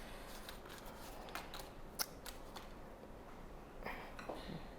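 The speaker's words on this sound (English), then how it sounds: "I can cut butter" A knife cutting through butter in a home kitchen, giving soft, scattered scraping and tapping sounds with one sharper click, fairly quiet against low background noise.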